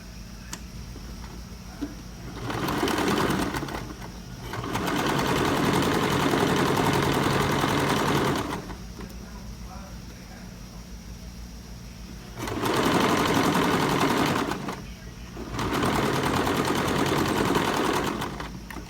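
A sewing machine stitching the darts of a blouse runs in four whirring bursts of a few seconds each, close and steady, separated by quiet gaps of low background hum.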